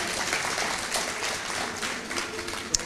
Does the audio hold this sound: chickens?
no